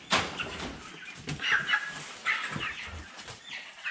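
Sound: broiler chicken

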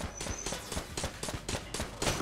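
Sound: nail gun firing in video game Enter the Gungeon

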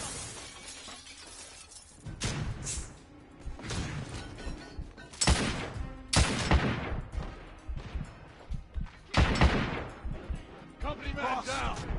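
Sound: shotgun gunfire in the video game The Order: 1886

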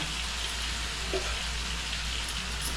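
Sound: frying marinated chicken in a pan

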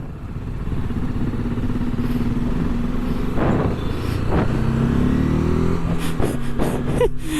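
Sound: motorcycle engine running

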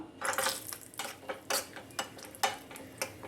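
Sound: nuts dropped into ghee in a pan

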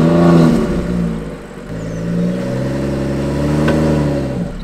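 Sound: BMW M140i car driving off

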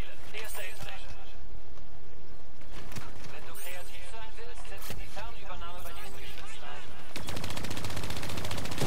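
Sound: machine gun fire from the video game Call of Duty

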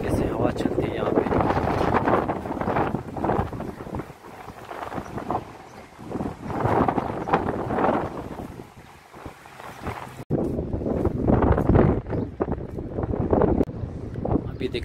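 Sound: wind blowing into microphone

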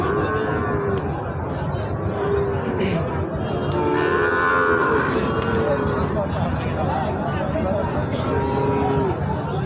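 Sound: cattle mooing at a livestock market

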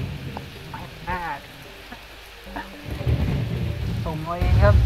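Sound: rain and thunder in the video game Plants vs Zombies

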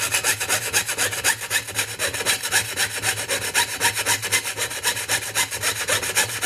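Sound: hand sawing a wooden spatula blank

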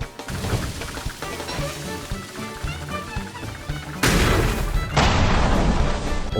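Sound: gunpowder explosion in video game Don't Starve Together

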